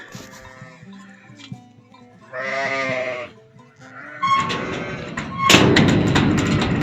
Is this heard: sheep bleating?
yes